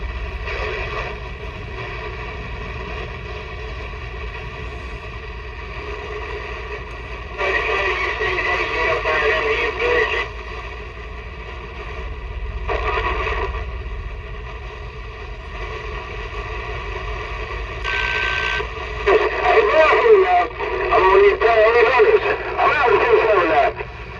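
CB radio skip traffic picked up through a newly installed Firestik antenna with a quick disconnect and an Astatic 636 mic, a steady hiss of static with bursts of distant, garbled voices breaking in and fading.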